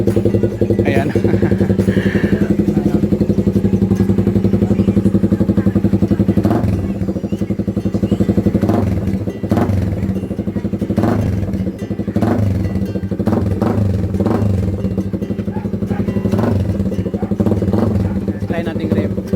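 A Raider 150 motorcycle running without its silencer, with a loud, steady, close raw exhaust rumble, periodic rev blips and rattling clatter throughout, under people talking.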